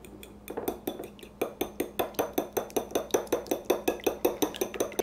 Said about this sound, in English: I'm going to just break up the yolks right now and mix them up a bit